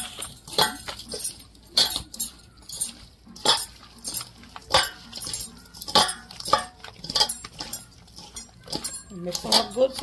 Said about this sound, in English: Mix them up good so that the seasoning can go into each and every one of these pieces.